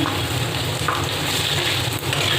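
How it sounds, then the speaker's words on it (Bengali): Potatoes fry with turmeric and salt in hot oil in a pan, giving a steady, close sizzle that holds evenly from start to finish with no talking. "এবার ভালো করে ভেজে নেব"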